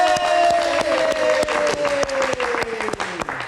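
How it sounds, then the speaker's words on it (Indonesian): A studio audience claps in a dense, steady burst of applause, close and loud, while a fading tone sweeps underneath and a voice speaks briefly. "kita kasih tepuk tangan"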